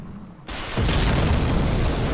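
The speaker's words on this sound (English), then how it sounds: "he's a Mr. Giant Man, and he's throwing bombs at us" A giant in the Dark Souls video game throws a bomb that explodes with a loud, close boom, followed by a sustained rumbling, crackling roar.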